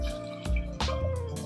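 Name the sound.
water poured into pot with spices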